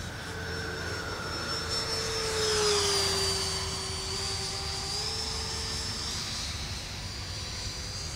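Radio-controlled F-16 model jet flying overhead, a steady electric ducted-fan whine that rises and falls in pitch as it passes and pulls vertical, loud and continuous with no talking.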